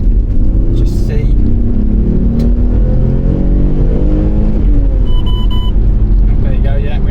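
An Alfa Romeo 156 engine runs while driving, with a fresh cam belt and water pump. Its loud, close rumble rises and falls in revs, and people talk over it throughout.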